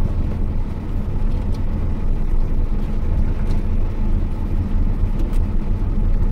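Car engine rumbles steadily at close range while a daughter drives for the first time, a continuous low drone with slight rises in revs and no voices over it.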